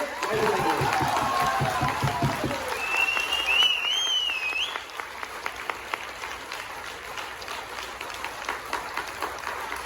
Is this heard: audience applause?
yes